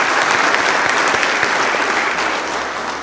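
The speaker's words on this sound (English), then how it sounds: "So I want to applaud our older dads." A church congregation at a Sunday service applauds older fathers on Father's Day, with steady, dense clapping filling the room for the full stretch and tapering only slightly at the end.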